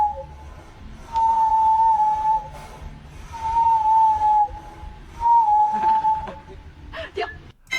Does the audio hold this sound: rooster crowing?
no